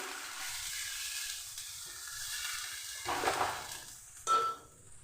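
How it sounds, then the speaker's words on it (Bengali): Water poured into a pan of fried masala for a sheat fish curry, a soft steady sizzle with stirring and two brief louder surges of hissing near the end, close and moderately quiet. "ওর মধ্যে আমি দিয়ে দিচ্ছি পরিমাণ মতো জল"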